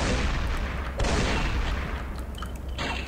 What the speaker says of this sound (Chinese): 这个霰弹枪真强啊，好强哦！